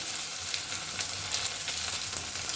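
Chopped tomatoes and a spoonful of ginger-garlic paste fry with browned onions in hot oil, a close, continuous sizzle that stays even and unbroken, with no voices.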